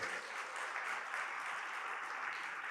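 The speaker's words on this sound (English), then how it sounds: "Ladies and gentlemen, please give a final round of applause for Nila from TikTok, Samy from Deloitte." A steady wash of applause from a conference audience closes a TikTok and Deloitte whitepaper launch event, even and sustained, heard from a distance without any speech.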